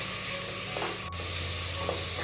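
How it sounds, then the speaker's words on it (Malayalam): Onions and beef sautéing for a home-style beef curry, a steady close sizzle and hiss with stirring scrapes in the pan, no voices. "ഇത് രണ്ടും ചേർത്ത് കൊടുത്തതിന് ശേഷം വീണ്ടും നന്നായിട്ട് എല്ലാം ഒന്ന് വഴറ്റി കൊടുക്കാം."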